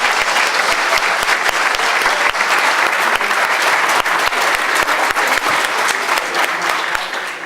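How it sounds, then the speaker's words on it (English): An audience at a venture plan competition gives contestants loud, sustained applause, with steady crowd clapping from start to finish. "if we could give one final round of applause for all of our contestants"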